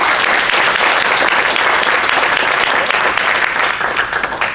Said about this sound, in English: So let's give a big round of applause for Dave.